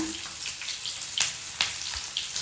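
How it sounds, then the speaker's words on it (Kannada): Onions frying in hot oil for a capsicum paneer dish, giving a soft, steady sizzle close by with a few sharper crackles and pops. "ಇವಾಗ ನಾನು ಸ್ವಲ್ಪ ಈರುಳ್ಳಿಯನ್ನು ಹಾಕೊಳ್ತಾ ಇದ್ದೀನಿ ಸ್ವಲ್ಪ ಈರುಳ್ಳಿಯನ್ನು ಸ್ವಲ್ಪ ಫ್ರೈ ಮಾಡ್ಕೊಂಡು"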